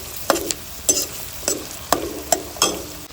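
Sliced onions fry in an oil-filled pan for a homestyle chicken fry, a steady close sizzle broken by about six rhythmic scrapes and stirs of a spatula against the metal.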